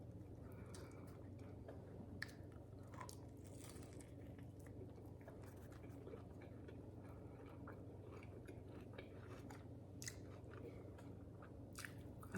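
Close, quiet bites and chewing on a fish taco in a corn tortilla, with soft crunches and moist smacks scattered irregularly over a low steady background hum.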